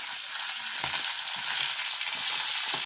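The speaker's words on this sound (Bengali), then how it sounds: "তেল গরম হয়ে গেছে এবার মাছগুলো দিয়ে দেবো" Prawns fry in hot mustard oil in a pan, giving a steady, close, crackling sizzle that runs unbroken throughout, with faint scrapes and no talk.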